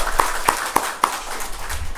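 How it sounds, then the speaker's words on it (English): A few people in a workshop audience clap, about four distinct, evenly spaced claps in quick succession before the sound trails off into quiet room tone. "I think one round of applause to him"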